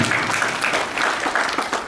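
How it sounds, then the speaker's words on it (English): An audience at a school debate claps in a steady, dense burst of applause that is fairly close and continuous throughout, with no speech over it. "We shall give a clap for everyone."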